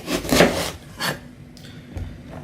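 A knife slicing an eggplant in half on a wooden board, a couple of distinct close cutting strokes followed by light scraping and knocks, with no speech.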